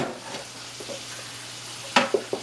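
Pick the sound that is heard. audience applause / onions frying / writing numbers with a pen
onions frying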